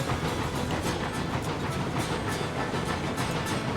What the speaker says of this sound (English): You can hear it chuffing down.